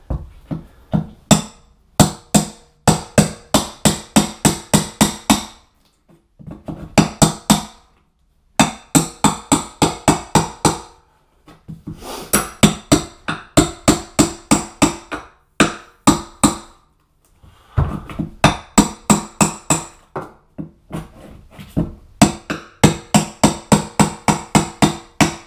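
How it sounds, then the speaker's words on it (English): A hammer strikes glued-down cork floor tile in a bathroom, sounding as loud, sharp, rapid blows in long bursts of a dozen or so hits, separated by short pauses, with no talk. "I'll have to go at it with the hammer."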